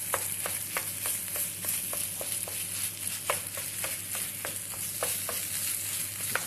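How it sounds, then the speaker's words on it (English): Butter sizzling in a pan as it is stirred through the food, an even frying hiss broken by quick regular scrapes of a utensil, close and steady with a low hum underneath, no speech. "let's just mix that in, make sure that that butter gets in there nicely"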